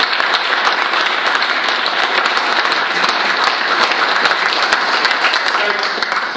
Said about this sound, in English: I'd love a big round of applause to Larry